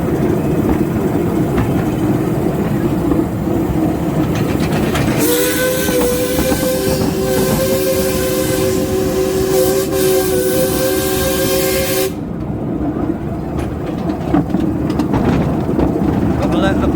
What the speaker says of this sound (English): Got to let the public know there's a train coming.